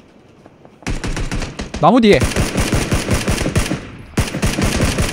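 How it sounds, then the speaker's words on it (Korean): Rapid bursts of machine-gun fire in PlayerUnknown's Battlegrounds, close and loud, starting abruptly and running in a stuttering rattle with a short gap near the end, while a player speaks briefly over it. "총소리 나는데 바로 앞에"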